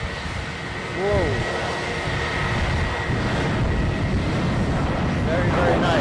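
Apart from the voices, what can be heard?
KlasJet aircraft taking off at Edinburgh airport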